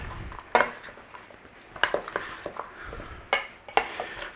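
Beef and cabbage pie filling being mixed in a bowl, with a few sharp clatters of a utensil against the bowl between softer, scraping stirs, close and fairly quiet.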